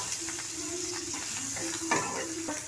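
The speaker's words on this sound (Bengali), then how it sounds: "দিয়ে চিকেনটাকে ভালো করে ভেজে নেব।" Chicken pieces frying in a pan with chili and cumin powder for chowmein, a soft sizzle under repeated spatula stirring and a few light taps.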